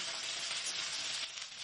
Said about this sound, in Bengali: ভেন্ডিগুলোও আমি লাল লাল করে ভেজে নেব